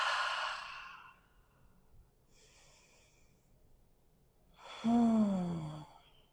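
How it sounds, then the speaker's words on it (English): Slow, deep breaths during a yoga asana session: a long exhale, a faint soft breath, then a strong voiced sigh, close and quiet in between with no talking. "Breathe deep."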